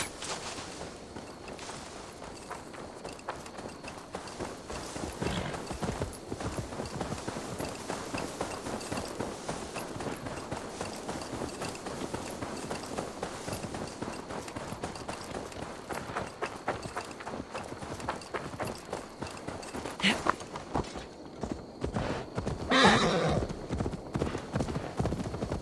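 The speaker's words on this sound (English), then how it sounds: "Now to deliver Magni his horse." Horse hooves clip-clop steadily through a mission in Assassin's Creed Valhalla, trotting and running with a brief whinny, while game sounds and occasional voices carry underneath.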